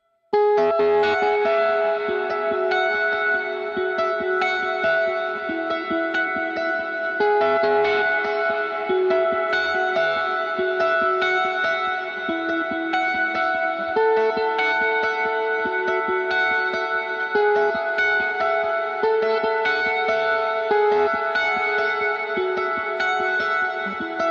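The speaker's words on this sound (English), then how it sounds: "You might be able to hear that I added a lot more reverb on that" Distorted electric guitar playing sustained chords and notes drenched in heavy reverb and echo, continuous and fairly loud throughout.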